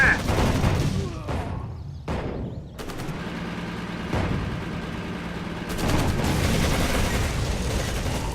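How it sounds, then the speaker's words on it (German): Sustained gunfire and machine-gun bursts in the WWII strategy game Codename: Panzer Phase One, loud and continuous with occasional booms, a brief gap partway through before the firing swells again. "Wir befinden uns unter Beschuss."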